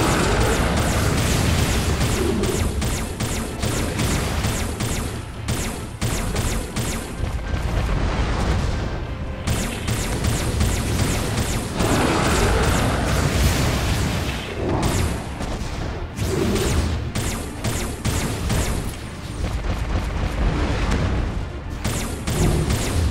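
Repeated loud explosions and heavy booming blasts from enemies blowing up in the mech game M.A.S.S. Builder, dense bursts of gunfire-like impacts running almost continuously with brief lulls.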